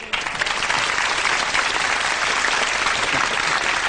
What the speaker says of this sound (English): I think it deserves a round of applause.